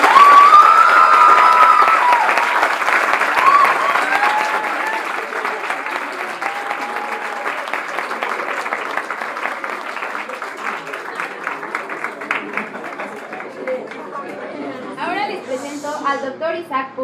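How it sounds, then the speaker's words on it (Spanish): A lecture audience applauds steadily and loudly for a long stretch after a university talk, the clapping gradually thinning as voices rise toward the end. "Démosle otro fuerte aplauso"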